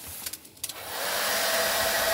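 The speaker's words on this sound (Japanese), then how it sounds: "ドライヤーを使う。" A 1200-watt hair dryer switched on inside a camper van runs on battery power, starting after a few brief clicks and settling into a steady, loud, close airy roar that continues without pause.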